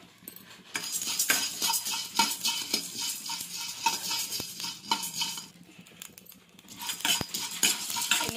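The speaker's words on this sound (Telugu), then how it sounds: "ప్యాన్ పెట్టుకొని ధనియాలు, చెక్క, లవంగా వేసుకొని ఫ్రై చేసుకోవాలి." Coriander seeds, cinnamon and cloves fry in a pan, with a faint sizzle under repeated clinks and scrapes of a utensil stirring against the metal, close and fairly quiet.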